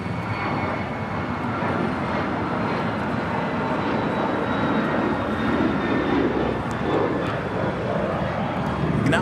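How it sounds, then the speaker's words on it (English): A departing airliner roars down runway 25 at LAX, a broad, loud, continuous engine rumble that holds steady through the whole stretch. "We'll have a departure on 25 right here shortly."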